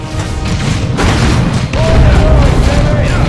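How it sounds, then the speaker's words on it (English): Deep, rumbling artillery blasts boom through a Warhammer 40,000: Chaos Rising battle, several heavy impacts rolling together under shouted voices. "Keep advancing to avoid the artillery."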